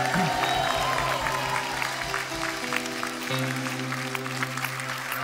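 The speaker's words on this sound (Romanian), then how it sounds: "Aplauze, doamnelor și domnilor!" Applause and cheering from a roast-show audience fill the space, with music playing underneath and a voice briefly audible at the start.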